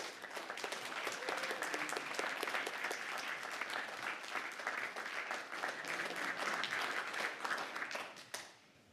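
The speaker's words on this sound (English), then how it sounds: "Can we give them a round of applause?" A room full of people at a city council meeting applauds staff and members, dense continuous clapping that stays level for several seconds, then tapers off near the end.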